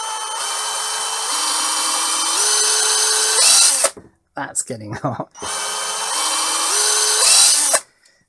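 Cordless electric drill motor whining under speed control, stepping up in pitch through distinct speed levels to a high scream, then stopping briefly with a short spoken remark before a second run through the same stepped rise.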